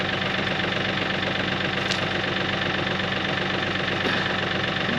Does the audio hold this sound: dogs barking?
no